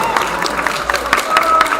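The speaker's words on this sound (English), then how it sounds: "Let's give a round of applause to both of them." Audience applause for two rapier fencers at the Black Horns Cup 2026 finals, a steady wash of clapping and light crowd noise with a voice carrying over it.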